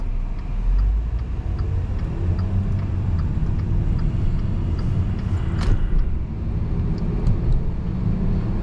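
A 2013 Volkswagen Beetle 50s Edition drives through traffic near a school, with a steady low engine and road rumble filling the cabin and a brief brighter whoosh midway, no talking.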